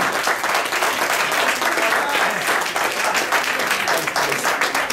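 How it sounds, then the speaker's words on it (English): An audience at a reunion party claps and cheers in a sustained burst of applause, dense and lively throughout, with a few voices shouting within the crowd. "How about a big round of applause for Bruce?"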